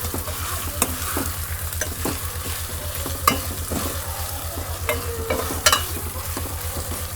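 Onion, tomato, ginger-garlic paste and green chillies fry in a pan with a continuous sizzle, while a spoon scrapes and stirs in scattered knocks over a steady low rhythmic hum.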